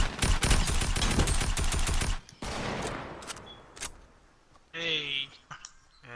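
Rapid automatic rifle fire in Fortnite, a loud sustained burst of rattling shots for about two seconds, followed by scattered single reports and a short synthetic tone, with players talking underneath.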